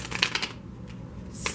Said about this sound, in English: First time I've struggled with shuffling.